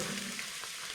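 Steady, soft sizzling of bread frying in a pan on a stove, a continuous crackling hiss with no voices.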